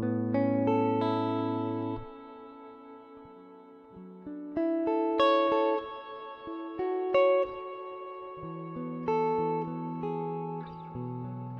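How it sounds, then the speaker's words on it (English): A guitar plays sustained notes and chords through a tape echo pedal set to a spring reverb emulation, such as a BOSS Space Echo RE-202, Helix Space Echo or NUX Tape Echo. Each clean note rings out with a lingering reverb tail, alone with no talking. "I really like that reverb actually here, which is like an emulation of the spring."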